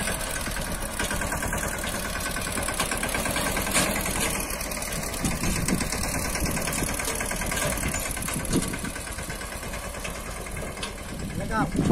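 A tractor engine runs steadily at a constant drone throughout, a continuous mechanical rumble on a farm with faint background voices.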